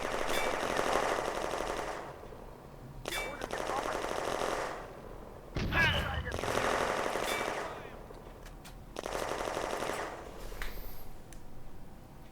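Bursts of automatic gunfire in a war video game firefight, several long machine-gun volleys separated by short gaps, loud and close, with sharp single shots in between, while a voice talks over the action.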